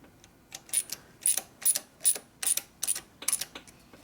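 A hand ratchet tightens bolts on a Ford 400ci engine block from a 1958 F100 project. It gives a close, sharp clicking in about eight quick rhythmic bursts, one stroke after another, with no one talking.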